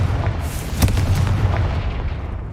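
Confringo explosive spell cast in Hogwarts Legacy on PC, a loud booming blast with a sharp crack, then a rumbling roar that slowly tails off.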